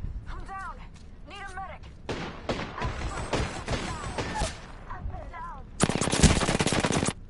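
Gunfire in the video game Fortnite, with a pistol in play: scattered single shots and short bursts among other game effects, ending in a loud, dense rapid volley.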